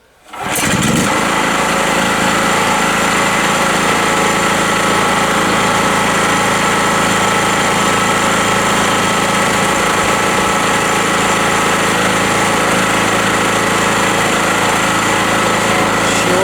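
An electrical generator engine runs right after its first start, warm and without choke. It kicks in within the first second, then holds a loud, steady, close drone with no talk.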